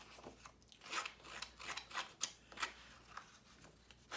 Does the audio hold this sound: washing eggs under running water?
no